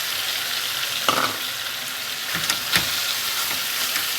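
Sliced garlic sizzles steadily in a hot pan, a continuous frying hiss broken by a few short louder crackles and stirring scrapes, close and alone.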